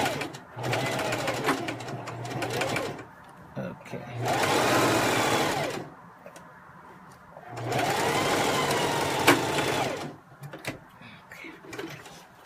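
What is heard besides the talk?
sewing machine stitching a seam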